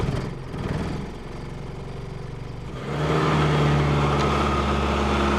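A 1990 Chevrolet Cavalier cranking over in the cold, a rhythmic starter churn for about three seconds before the engine catches and settles into a loud, steady running roar.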